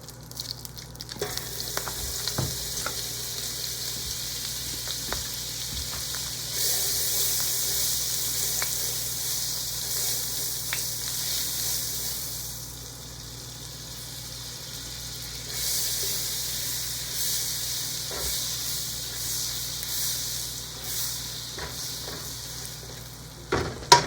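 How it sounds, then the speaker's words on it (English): Two tablespoons of butter sizzle and fry steadily in a pan already used for cooking, a continuous close hiss that swells louder midway, with occasional stirring clicks and no talking. "in the same pan, adding in 2 tablespoons of butter"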